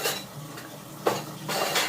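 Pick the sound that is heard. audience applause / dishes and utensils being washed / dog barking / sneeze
dishes and utensils being washed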